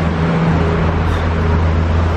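A GT3 sports car on a Monaco street holds a steady, loud engine drone for a couple of seconds amid roadway noise.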